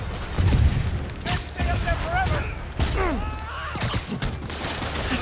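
Rocket blasts go off in a Spider-Man Remastered game fight: low booming explosions rumble under a busy action scene, with voices and whooshing effects on top.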